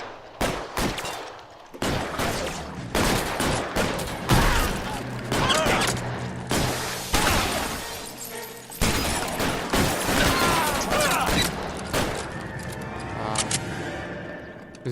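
In an L.A. Noire shootout at the Westlake Savings and Loan, loud, rapid gunfire rings out, with repeated bursts and single shots from close range, among them shotgun blasts, broken by brief pauses.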